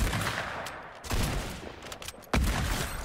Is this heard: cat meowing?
no